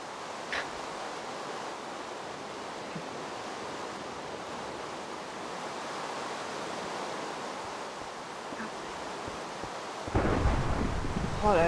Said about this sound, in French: Oh là là, j'adore l'orage dans Minecraft.